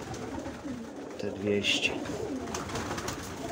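Pigeons coo at their loft in a few soft, low throaty calls mid-clip, close by, with someone talking nearby.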